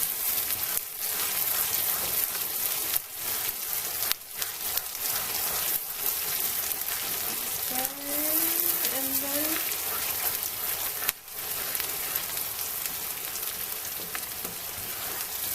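Shito sauce fries in a large pot while being stirred, giving a continuous soft sizzle and crackle with occasional scraping thumps, and a brief tonal squeak partway through.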